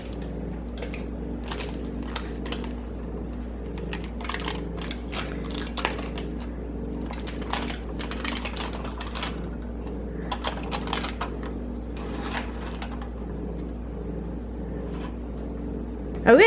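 Wrapped cake trees are unwrapped with a continuous run of small crinkling, tapping and rustling sounds over a low background hum, close and fairly quiet.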